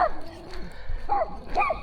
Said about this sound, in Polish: Psy mnie, panie, oszczekali.